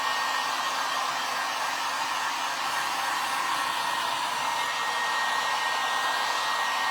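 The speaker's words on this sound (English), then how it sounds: "We're just gonna hit it with the heat gun and see if we can get it to dry." A heat gun blows continuously to dry an outdoor pumpkin pie craft, a loud, even, close-up airy roar with a faint steady whine and no voices.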